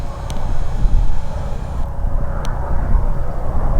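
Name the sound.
helicopter flying overhead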